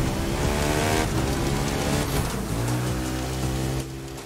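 Mercedes car in The Crew 2 driving hard through a forest, loud close engine roar over a hissing rumble of rough ground, pitch shifting as it climbs.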